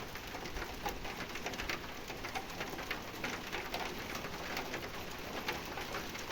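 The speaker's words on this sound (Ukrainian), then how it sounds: "Так що дощ якось тобі почався." Rain beginning outdoors with large raindrops falling, a dense steady patter of drops hitting surfaces, faint and continuous throughout with no talk.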